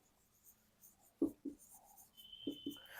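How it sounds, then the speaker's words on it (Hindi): Marker or chalk strokes sound on a board during a math lesson, a few short, soft scratches in pairs against a quiet background. "तो मनी इन्वेस्टेड को हम MI लिख दे रहे हैं"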